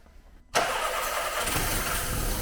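Quiet background, then a car engine unused for seven years suddenly catches and roars to life, settling into a loud, steady run close by.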